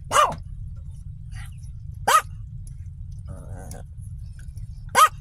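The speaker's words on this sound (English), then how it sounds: "He's been on a rampage today. Barking at everything." A dog barks three times in sharp single bursts spaced a couple of seconds apart, over a low steady hum.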